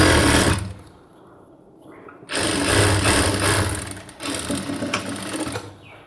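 A sewing machine stitches along the edge of a cargo half pant, running loud in two steady bursts with a brief quieter pause between them.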